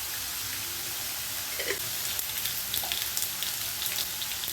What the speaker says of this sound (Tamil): நம்ம கடுகு உளுந்த பருப்பு சேர்த்துக்கிறேன்.